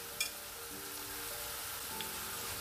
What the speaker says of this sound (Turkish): Bunlar da kızardı.